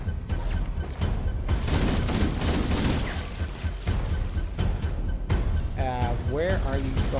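Gunfire in Halo, shots crackling in dense bursts through most of the stretch with a loud, busy game mix, and a voice-like warbling sound near the end.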